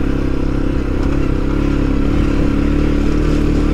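A CFMOTO CFORCE 400 ATV engine drones loud and close while riding on a trail, a steady, rough mechanical roar with constant clatter and no pauses.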